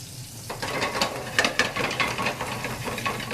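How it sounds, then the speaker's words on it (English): Wild mushrooms sauté in a moist pan, giving a steady soft sizzle with scraping and stirring clicks from a utensil, with no talking. "once we start sauteing, they start breaking down, and you get a lot of moisture in the pan"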